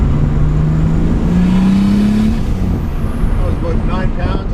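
Chevrolet Cavalier Z24 under boost with the screamer pipe open, a loud rising engine note as it accelerates hard from inside the car, then a brief lift with turbo whoosh and chatter near the end.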